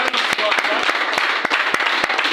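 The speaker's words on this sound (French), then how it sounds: "Est-ce que vous pouvez applaudir?" Audience applause at a network-building seminar in Rwanda, dense rapid clapping from many hands with sharp individual claps standing out, close and fairly loud throughout.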